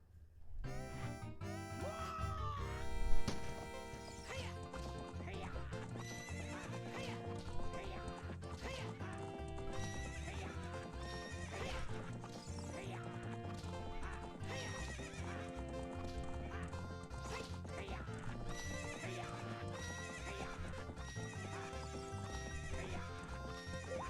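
Horse race in the video game Ocarina of Time: galloping clip-clop hooves and a neigh over bright game music, with a loud burst early on, steady rhythm throughout.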